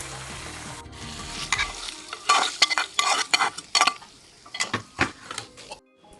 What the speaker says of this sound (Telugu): పచ్చిమిరపకాయలు 1 నిమిషం వేయించుకొని